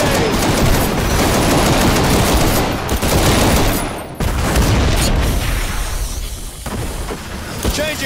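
World War Heroes combat: sustained loud gunfire and rattling machine-gun bursts with booming grenade explosions, dense and close throughout, briefly dropping out twice before resuming.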